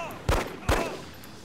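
Two sharp gunshots ring out in the survival video game DayZ, spaced about half a second apart, each loud with a short ringing tail, and no talking over them.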